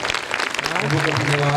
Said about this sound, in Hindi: आइए जोरदार ताली बजाएं।